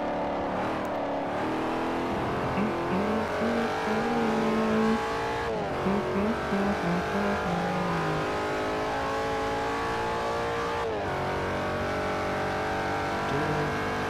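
A Porsche 918 racing in Forza Motorsport 4 revs loudly and continuously, its engine note rising and falling through repeated gear changes with occasional tire noise.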